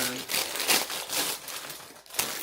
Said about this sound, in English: Plastic bags in this set here.